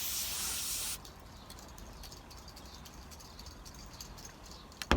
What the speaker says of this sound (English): I'm going to spray some of this on this bearing, and I'm going to start moving it around as I spray.